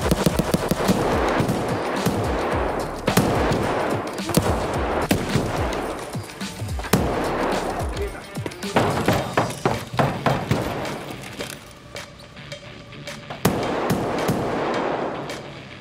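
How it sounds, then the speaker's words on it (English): Gunfire in the shooter game Escape from Tarkov: rapid bursts and single shots crack loudly and repeatedly across the whole stretch, some near and some farther off, with no talking. "Hear a gunshot?"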